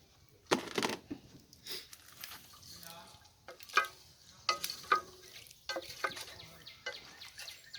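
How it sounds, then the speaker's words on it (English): Zucchini simmering in a pan at a campsite after a splash of orange juice is added, a soft sizzle with intermittent stirring clinks and scrapes, fairly quiet and close. "Let that simmer for a bit."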